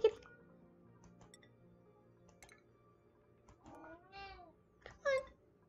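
A pet cat meows twice in quick succession, fairly close and clear, after soft ticking and faint background noise.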